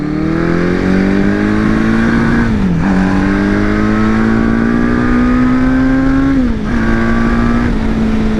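A Honda CB750 motorcycle engine runs loud and close, revving up steadily in two long climbs, each dropping briefly before the revs rise again, with no voices over it.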